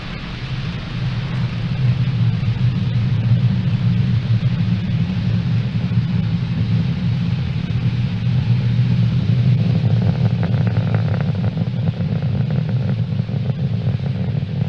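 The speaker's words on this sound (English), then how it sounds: "Falcon 9 has successfully lifted off from Pad 40 at Cape Canaveral Space Force Station, carrying Eutelsat HOTBIRD 13G satellite" SpaceX Falcon 9 rocket lifting off from Pad 40 at Cape Canaveral Space Force Station with the Eutelsat HOTBIRD 13G satellite, a loud, steady, deep rumbling roar that holds without break for the whole stretch.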